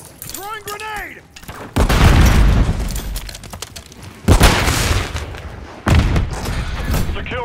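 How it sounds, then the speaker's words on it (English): In Call of Duty: Modern Warfare III on the Favela map, loud booming blasts and bursts of gunfire erupt in three heavy waves, each followed by rattling shots, after a short stretch of voice at the start. "Throwing grenade! Throwing grenade!"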